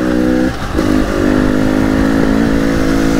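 KTM EXC 300 Six Days two-stroke enduro motorcycle running close by, its engine and exhaust holding a steady buzzing tone with a brief dip and a small rev near the start, with no talk over it.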